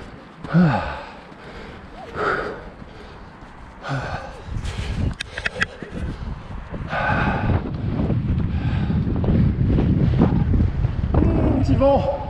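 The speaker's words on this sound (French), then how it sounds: "il fait un vieux vent d'ouest là, bien frais" Cold west wind buffets the microphone in rough, rising bursts on snowy slag heaps during a mountain bike ride, growing steadier and louder toward the end, with a few breaths and short vocal sounds.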